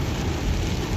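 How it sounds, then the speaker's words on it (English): Steady rain pours down in downtown Kingston, Jamaica, a dense even hiss of falling water with a low rumble beneath, continuous and without voices. "It's a rainy day."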